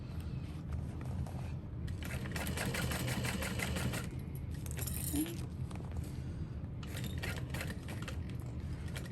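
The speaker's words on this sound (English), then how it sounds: "Make sure you're only sewing through so many layers." A sewing machine stitches through several layers of backpack fabric in quick motorized bursts, pausing briefly between runs, with no talk over it.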